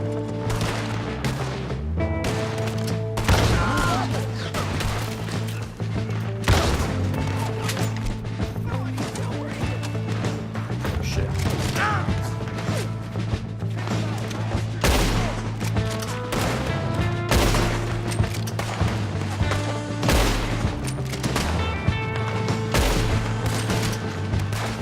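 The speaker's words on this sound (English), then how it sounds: "See, suppressing fire." Dense suppressing gunfire in a Red Dead Redemption 2 shootout, rapid overlapping rifle and pistol shots cracking nonstop with brief gaps, loud and close, over a low steady rumble.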